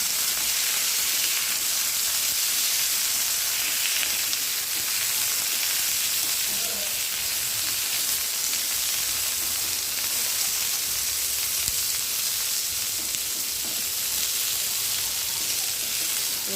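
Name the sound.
frying pointed gourd (potol) in a pan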